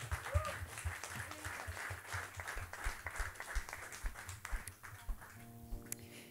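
A church congregation claps for a choir after a sermon, a soft, diffuse patter of hands heard from some distance over a low hum, with a sustained tone creeping in near the end.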